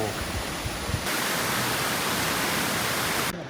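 Steady broadband rush of water pouring down Mackenzie's Falls near Ballarat, a continuous roar heard close and fairly loud with no talk over it.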